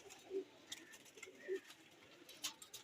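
Female pigeons perched outdoors give two soft, low coos spaced about a second apart, faint against quiet background chatter and light ambient noise.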